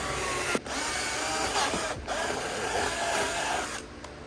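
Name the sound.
power drill boring a hole in a boat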